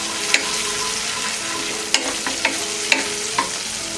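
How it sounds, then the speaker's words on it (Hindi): A spoon stirs coriander powder into a moong dal tikki mixture in a kitchen, giving a soft steady scraping with a few sharp clinks spaced through the stretch, close and fairly quiet. "अब हम इसमें डालेंगे ये धनिया पाउडर, मिक्स कर देते हैं"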